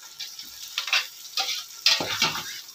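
Onion fries in a pan with soft, intermittent sizzling bursts and light crackles, close and fairly quiet over a few seconds with no talking.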